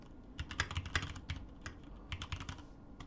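Quick, close bursts of keystrokes on a computer keyboard, uneven in rhythm with short pauses, recorded fairly quietly with no talking.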